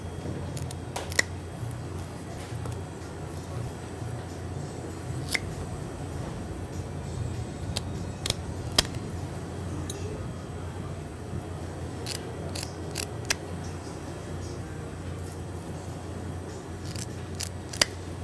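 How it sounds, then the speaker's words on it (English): Sharp scissors snip the fins off a whole branzino fish in a kitchen, giving scattered crisp clicks at irregular intervals over a low background hum, with no talking. "First, we're going to start by snipping all of its fins"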